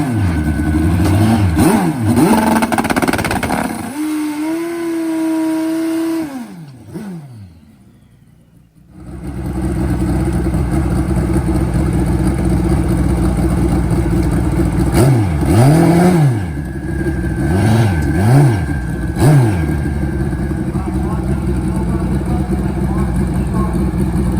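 Mark Chisholm's turbocharged Kawasaki KZ drag motorcycle revs and roars loudly at the drag strip, with rising and falling engine pitch sweeps, a brief lull, and then more revving, all under an announcer's voice.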